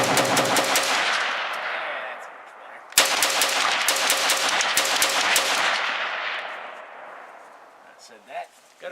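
A Steyr AUG HBAR heavy-barrel rifle firing steel-case ammunition in semi-auto, with loud, close sharp reports in rapid succession, a brief pause, then another run of shots that trails off into echo and faint rustling.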